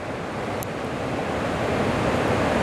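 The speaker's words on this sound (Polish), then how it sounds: "są właśnie prądy morskie, które powodują te fale, mimo że nie ma tak dużego wiatru" Waves on the Baltic Sea in winter surging steadily along the shore, a continuous broadband wash with wind noise on the microphone and no voices.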